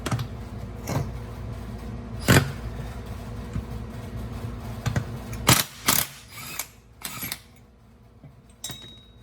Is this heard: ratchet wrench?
yes